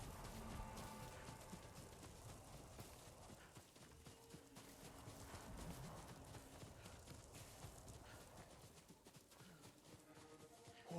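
Horses gallop in the video game Ghost of Tsushima, a steady stream of hoof clatter and thudding that runs throughout, moderately close over a busy background of game sound and music.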